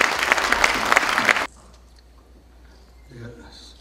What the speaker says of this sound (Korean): 성원의 박수 부탁드리겠습니다.